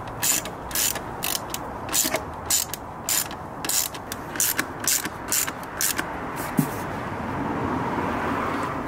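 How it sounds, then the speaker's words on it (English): Torx screws being nipped up by hand on the air filter housing of a W212 Mercedes E63 AMG, a run of short ratcheting clicks in repeated bursts with brief pauses, close by, fading to quiet near the end. "I'm just gonna nip these torque screws up."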